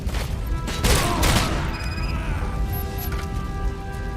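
Loud gunfire in the RoboCop video game, a heavy crashing burst of shots near the start that fades into ringing game tones and electronic beeps.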